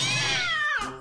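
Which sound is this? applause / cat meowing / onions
cat meowing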